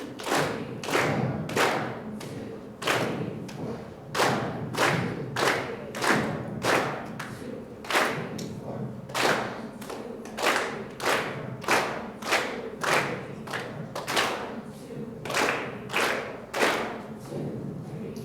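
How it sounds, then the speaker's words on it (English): High school music students clap a counted rhythm exercise together in a concert hall, sharp unison claps falling in regular, repeating patterns with brief pauses between groups, loud and crisp with a faint room echo. "we're going to count and clap number 18"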